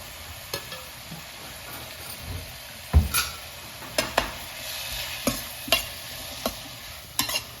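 Pineapple cooks with sugar in a pan, a soft bubbling sizzle punctuated by sharp spoon clicks and scrapes against the pan at irregular intervals, no talk.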